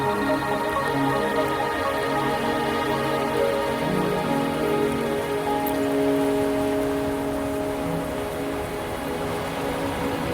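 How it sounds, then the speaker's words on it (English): Steady rain falls in the video game To Mt. Firmament, a constant soft hiss of drops that runs unbroken under a sustained, gentle musical backdrop. "Are you trapped here by the rain?"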